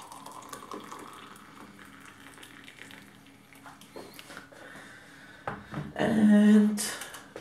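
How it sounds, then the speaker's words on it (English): Water poured into a homemade Raspberry Pi tea brewer, a short loud splashing pour near the end after quiet background. "And now let's pour the water into it."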